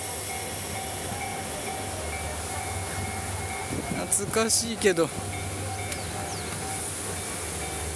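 A two-car train rumbles past nearby at Koboro Station on the Muroran Main Line, with rattling, clattering wheels and a brief squeal, while a person speaks briefly over steady background noise.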